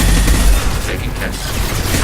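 Sustained gunfire from a firefight in the video game Mass Effect 2: a dense, loud, continuous clatter of shots with no break across the whole stretch.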